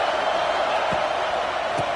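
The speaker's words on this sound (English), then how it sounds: "This crowd bringing the energy and noise early." Stadium crowd at a college football video game, a broad steady roar of many voices with a couple of faint thumps, continuous and loud with no clear talk on top.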